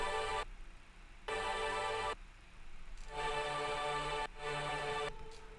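Layered atmosphere pads from a future bass mix swell in bright sustained chords that cut off and return in blocks, with a steady airy wash underneath and no voices.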